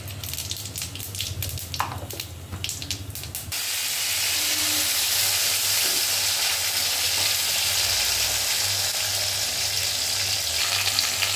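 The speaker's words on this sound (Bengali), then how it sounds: "গরম হয়ে গেছে, দিয়ে দেবো গোটা গরম মশলা, তেজপাতা, দিয়ে দেবো জিরে" Whole garam masala, bay leaf and cumin drop into hot ghee and a loud, steady sizzle takes over after a few seconds of quieter stirring and clinks, then continues unbroken.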